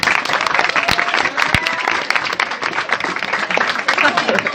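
A game show studio audience applauds a team with steady, dense clapping throughout, loud and close, with a voice speaking over it.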